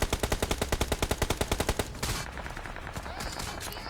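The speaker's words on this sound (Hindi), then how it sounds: "हर जगह से गोलियां पड़ रही थी।" Rapid automatic gunfire in a video game, a steady burst of evenly spaced shots for about two seconds, then a noisier, muffled stretch of distant firing.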